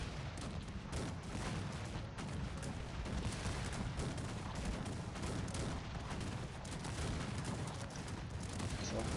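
Musket volleys crackle in a Cossacks 3 battle as an Austrian army trades fire, a dense, continuous rattle of many shots that stays steady and fairly distant throughout.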